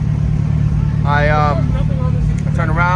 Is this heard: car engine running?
yes